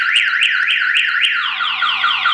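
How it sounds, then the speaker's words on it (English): A loud Viper 5706V car alarm on a 2014 Jeep Wrangler, triggered by its field disturbance sensor, wails in fast rising-and-falling cycles, then switches to a series of repeated downward-sweeping tones. "if I stick my hand in here and I move it around, the alarm triggers"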